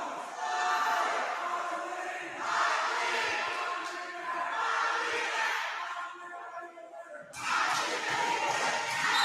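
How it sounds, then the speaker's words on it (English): A crowd at a varsity volleyball match roars and cheers in loud swelling waves, broken by a brief dip before surging again near the end. "Eagles crowd coming alive here at the end of set 2."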